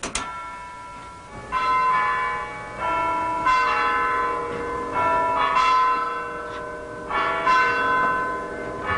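Church bells at Holy Cross ringing in the tower after repair, several ringing strikes with long overlapping resonant tails, heard from nearby and fairly loud.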